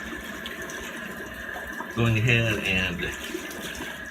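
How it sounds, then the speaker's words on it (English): Water runs steadily into a bathroom sink, filling it a little during a shave with a badger-hair brush, a constant soft hiss with a short stretch of someone talking over it. "filling the sink with a little bit of water"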